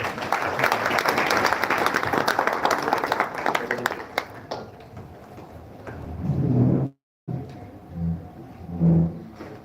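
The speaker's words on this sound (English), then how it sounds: "maybe give a round of applause to him." An audience at an inauguration ceremony applauds loudly with dense, sustained clapping that fades out, followed by a brief break and then muffled voices over a public address system.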